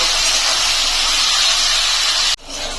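Loud, dense hiss of bitter gourd frying in hot oil, constant and close, cutting off abruptly near the end before a quieter sizzle resumes.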